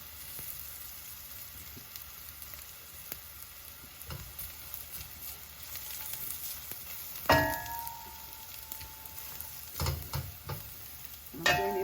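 Chili flakes stirred into a sizzling creamy turkey and ham pasta sauce give a steady frying hiss, with louder spoon scrapes and bursts of sizzle near the middle and at the end. No one speaks.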